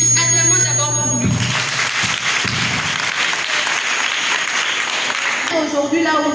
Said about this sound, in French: Acclamons d'abord pour lui